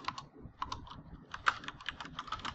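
Rapid, uneven clatter of keys as a ChatGPT prompt about a disaster recovery plan is typed on a computer keyboard, close and moderately loud, with no talking.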